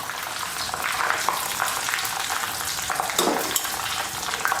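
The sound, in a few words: mustard seeds and fenugreek sizzling in hot oil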